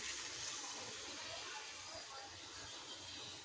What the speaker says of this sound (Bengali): মশলার বাটি ধুয়ে জল দেব।